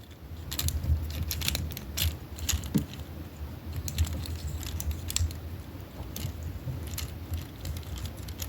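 Plastic joints of a Hasbro Transformers figure being moved and flexed, heard as fairly steady, light clicking and ratcheting taps close up over a low background hum, with no one talking.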